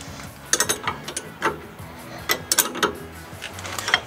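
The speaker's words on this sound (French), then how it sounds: "maintenant on visse en haut." A ratchet tightens the top bolt of a shock absorber on a 1968 Chevrolet Camaro that is propped on jack stands. Several sharp rapid clicking bursts with short pauses between them sound close by and clear.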